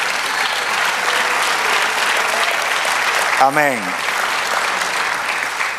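A church congregation claps in a continuous, even wash of applause, with one voice briefly calling out partway through.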